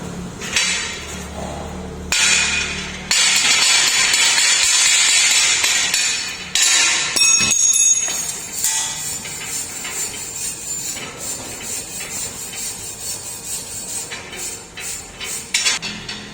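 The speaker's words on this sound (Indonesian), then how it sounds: "palu las dan sikat las." Slag is chipped off a fresh SMAW weld with a welding hammer and scrubbed with a wire brush, giving loud sustained scratchy brushing with metallic clinks and taps, broken by short pauses.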